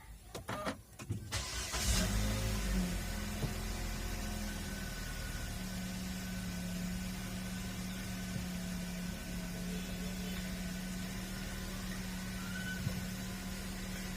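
A Nissan Serena C26 Highway Star with CVT starts by push button: a short starter crank catches, then the engine settles into a steady, close idle hum with no talking.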